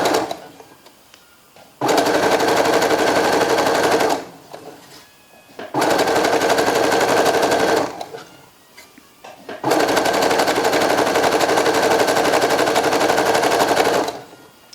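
A sewing machine fitted with a gathering foot stitches tulle in three long, steady runs of fast, buzzing motor whir, each stopping abruptly with short quiet pauses between, loud and close.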